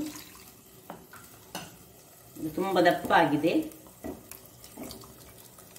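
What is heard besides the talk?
water poured into anchovy fish gravy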